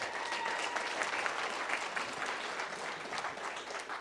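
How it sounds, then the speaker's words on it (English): Audience applause at a cybersecurity summit for small businesses, a steady wash of many hands clapping close and loud, sustained for the full stretch without a break. "Give her a round of applause."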